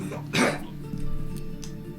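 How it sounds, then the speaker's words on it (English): Someone coughs once sharply, close and loud, as if bringing up swallowed salty water, followed by a quieter stretch of background noise. "Cough the water up."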